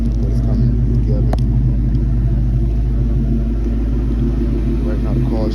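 A 2004 Ford Mustang GT, fitted with a throttle body spacer, idles steadily with a deep, constant low rumble from close by, and its engine note stays unchanged through the whole stretch.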